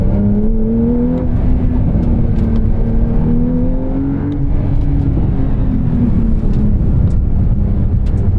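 A 2024 Porsche 911 Carrera T engine accelerates steadily from inside the car, a somewhat muted, rising drone over road and wind rumble, with a brief shift-like dip partway through.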